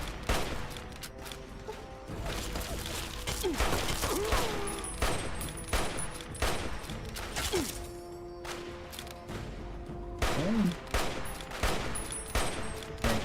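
Rapid overlapping gunshots from several hunting rifles in Fallout: A Tale of Two Wastelands, sharp repeated cracks in irregular bursts, loud and near, with brief pauses between volleys.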